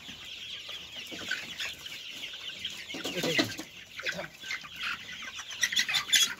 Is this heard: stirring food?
no